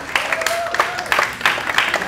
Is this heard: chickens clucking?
no